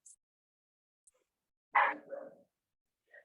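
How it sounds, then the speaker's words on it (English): A single short dog bark with a softer follow-up yelp in an otherwise quiet room during an online fitness class, a faint yip trailing after. "Sorry, Olivia's barking."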